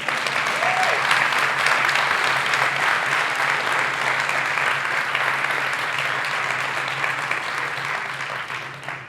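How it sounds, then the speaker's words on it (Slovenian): Loud, sustained applause from a conference audience at a public administration event in a hall, dense continuous clapping of many people that holds steady for several seconds before slowly tapering off, with a faint voice briefly audible early on. "In dajmo en tak spontan aplavz navdušenja."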